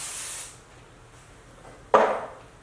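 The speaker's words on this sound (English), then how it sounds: "I'm going to go in with this Voluminous Touch Memory Spray" Two short hissing bursts of Voluminous Touch memory hairspray hit a live model's hair up close, the first trailing off within half a second, the second a sharper, louder blast near the end, with quiet between them.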